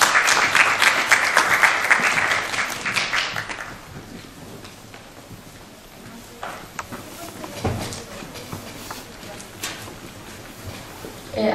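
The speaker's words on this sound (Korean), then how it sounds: "박수로 맞이해 주시기 바랍니다" An audience at an academic forum on hanok housing applauds to welcome the first presenter, with dense clapping that fades out after a few seconds, followed by quiet room noise and scattered small sounds.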